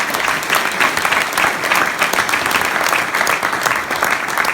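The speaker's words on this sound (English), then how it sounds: "Give them a round of applause." Audience applause at the Litecoin Summit, a dense, steady wash of clapping from a large crowd that holds at an even loudness for the whole stretch, with no voice above it.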